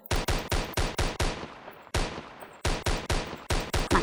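Rapid gunfire aimed at zombies in a Roblox game comes as sharp, loud shots in quick runs of several, with short pauses between bursts.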